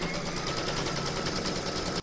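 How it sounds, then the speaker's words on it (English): An embroidery machine stitches the first round of an in-the-hoop heart banner, laying down the batting placement outline in a steady, even mechanical whir that runs unbroken and close until it stops abruptly. "Once you've loaded your file into your machine, you're now going to stitch round number 1"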